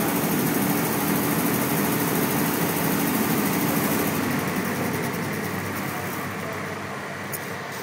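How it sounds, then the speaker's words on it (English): A Pramac standby generator engine, run in automatic test mode on an AC03 controller, drones steadily and loudly close by, easing off slightly toward the end. "Once the delay is finished, the unit will shut down and go back into standby mode."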